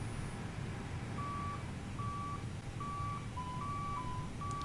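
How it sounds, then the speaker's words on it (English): A repeating electronic chime from the master alarm in an Airbus A320neo cockpit in Microsoft Flight Simulator, steady evenly spaced beeps over a constant low engine and cabin hum, with no talking. "Let's get ready for that master alarm."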